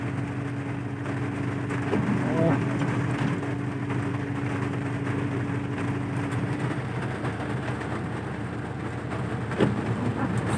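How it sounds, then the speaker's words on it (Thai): Steady soft hiss of light rain falling, continuous throughout, with a low engine hum and occasional faint knocks underneath. "ฝนก็รินนะฮะ"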